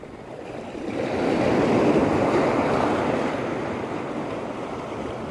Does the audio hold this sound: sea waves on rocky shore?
yes